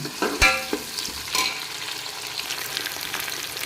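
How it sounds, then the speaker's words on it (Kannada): Sliced onions sizzle in hot oil in a pan for hotel-style vegetable pulao. A few sharp scraping stirs come near the start, then steady frying crackles continue alone. "ಈರುಳ್ಳಿ ಹಾಕಿದ್ದೀನಿ. ಈರುಳ್ಳಿನ ಬೇಯಿಸ್ಕೊಳ್ಳೋಣ."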